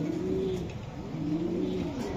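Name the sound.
grizzle pigeon cooing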